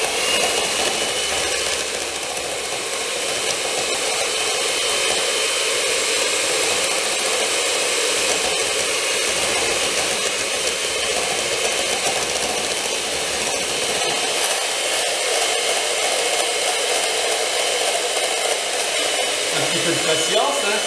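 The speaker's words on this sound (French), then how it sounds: "Donc mon batteur en service, au fur et à mesure je bats et je renverse l'huile en filets." An electric hand mixer beats egg for homemade mayonnaise while oil is poured in thin streams, giving a loud, steady high whine that runs unbroken for about twenty seconds.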